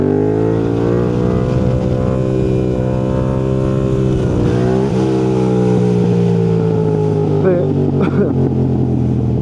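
A Yamaha MT-07 motorcycle engine drones steadily and loudly while being ridden, with someone talking continuously over the ride.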